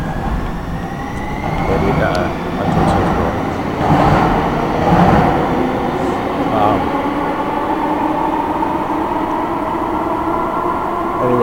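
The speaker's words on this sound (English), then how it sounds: "And there's a train." A train rumbles past with a steady low roar and rail noise, a voice talking over it throughout.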